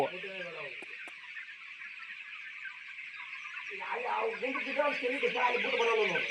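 Chickens cluck steadily on a poultry farm, a dense chorus of hens and chicks, loud and close, with busier, louder calling building toward the end.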